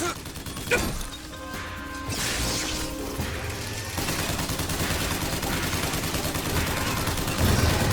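A Patriot's crank gun in BioShock Infinite rattles into a sustained, mechanical stream of rapid fire after a few clanking sounds and thumps, loud and continuous through the rest of the clip, with occasional talk.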